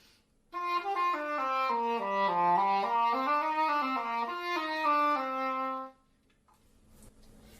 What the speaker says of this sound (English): The English horn is kind of the big brother of the oboe.